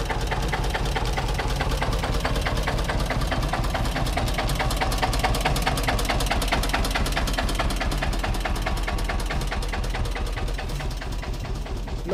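A 1956 Eicher tractor with a 1.4-litre single-cylinder engine runs steadily, its rapid, even chugging beats continuing throughout at moderate loudness with no talk.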